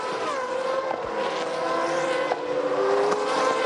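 A GP2 race car driven by Can Artam at the Hungaroring in 2005, its high engine note holding loud and steady with shifting pitch, the harmonic whine continuous and close throughout.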